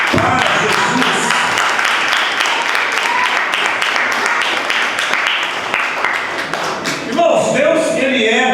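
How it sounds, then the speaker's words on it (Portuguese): A church congregation applauding, a dense and loud wash of many hands clapping that fills the room and rises again near the end, with voices mixed in. "Vamos dar uma linda salva de palmas para Jesus."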